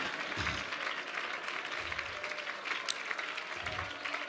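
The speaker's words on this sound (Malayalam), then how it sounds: "കൈയടിക്കുന്നവർ നേരെ കരങ്ങളടിച്ച് ദൈവത്തെ സ്തുതിക്ക്." Worshippers at a Malayalam Christian gathering clap in praise, a steady, fairly faint patter of many hands that continues for about four seconds, with soft low thumps recurring at intervals underneath.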